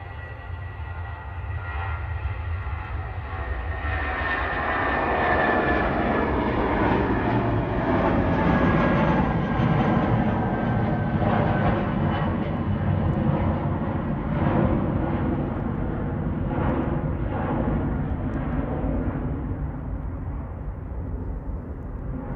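A British Airways shuttle jet departing Manchester for London Heathrow, its engine roar building over the first seconds into a loud sustained rumble with a swept whine, then easing slightly toward the end.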